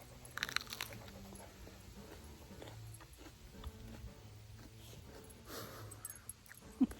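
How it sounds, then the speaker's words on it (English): A dog crunches and chews on a fresh garden pepper, with irregular bites and crunches close by, faint and mixed with soft whimpers and panting in a quiet garden. "You're eating a pepper and I can't have any?"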